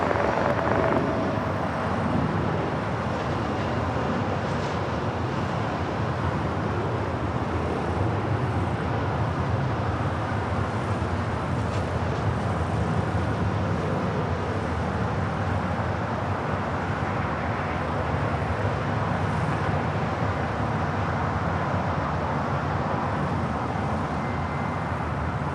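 A Volaris Airbus A321 on its way to Guadalajara at LAX, heard as a steady, loud, broadband jet roar that holds without letup for the full length, with no voices.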